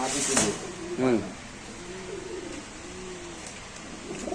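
Pigeons coo softly and close by at a pigeon market, a few low rolling coos after a brief burst of talk, over quiet background noise.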